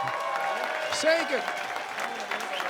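A standing ovation from an audience at a regional sports and business awards evening, steady broadband applause running throughout under a presenter's voice.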